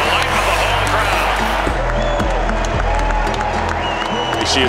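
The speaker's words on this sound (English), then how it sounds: "To the delight of the home crowd." A home crowd at a Toronto Maple Leafs hockey game against San Jose applauds and cheers after a goal, a loud, steady roar filling the arena with some thuds and deeper sounds underneath.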